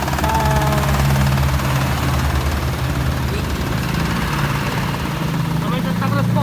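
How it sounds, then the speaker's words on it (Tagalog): An aircon compressor knocks under load, the unit revving harder and louder at a site in Santa Cruz, with a steady loud engine-like drone, low rumble and continuous mechanical noise throughout, and a voice talking over it. "Knocking sa compressor."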